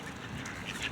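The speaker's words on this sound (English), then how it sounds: "Look at that big goose. He's massive." A large goose honks briefly close by, a single raspy call in a short outdoor moment with no talking.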